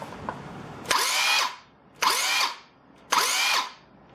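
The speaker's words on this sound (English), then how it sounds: "It does have a really nice brake. I like the brake on this." BAUER circular saw spinning down on its electric brake, three bursts of whining blade noise that each cut off abruptly, separated by short pauses, close and alone.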